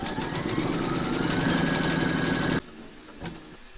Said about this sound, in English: Pop your hoop into your machine and stitch round number four to secure it